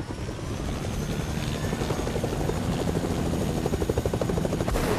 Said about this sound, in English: Get back in the chopper.